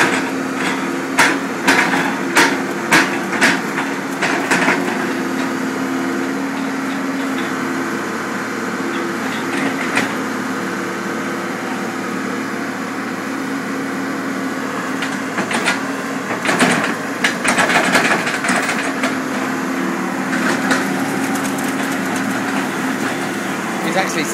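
A bulldozer demolishing an earth dome, with its engine droning steadily and sharp repeated knocks and crunches of breaking material in bursts near the start and middle.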